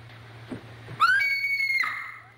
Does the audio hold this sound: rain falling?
no